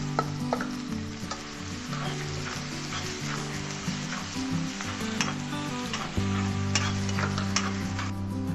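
Onions and chillies sautéing in a pan make a constant loud sizzle, broken by frequent stirring scrapes and small crackles throughout, with no voice.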